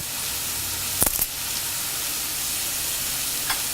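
Onion, ginger, garlic, green chili and curry leaves sauté in hot oil for a shrimp masala, a steady soft sizzle with a couple of sharp stirring clatters around the one-second mark and a faint tap later.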